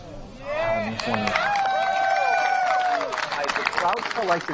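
A crowd at a disc golf tournament, the 2018 Great Lakes Open, cheers and applauds after a shot, with a steady wash of clapping and whoops that rises and holds loud for several seconds.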